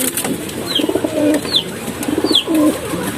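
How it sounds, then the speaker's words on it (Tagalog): Pigeons coo close by in repeated soft, low throaty calls, three or four phrases at a steady rhythm, with faint chirps and rustling in the background and no talking. "Ang gaganda ng ating mga kalapate."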